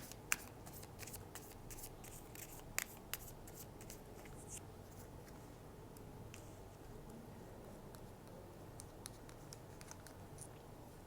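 Oracle cards being shuffled and drawn by hand during a tarot reading: faint, soft, continuous riffling and card flicks with a few light taps, close but quiet against a low background hum, with no talking.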